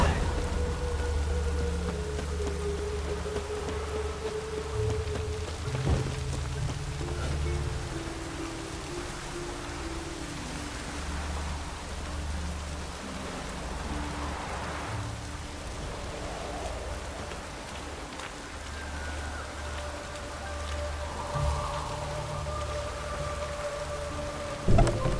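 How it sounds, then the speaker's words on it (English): Steady rain pours down with rolling thunder in the Witcher 3: Wild Hunt game world, a continuous hiss over low rumbling swells under a faint ambient music bed, with no voices. "Looked like it would rain, and here it is."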